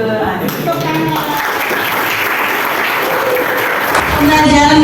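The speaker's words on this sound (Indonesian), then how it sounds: "Tepuk tangan." Classroom applause from students, a steady wash of hand claps lasting throughout, with voices mixed in underneath.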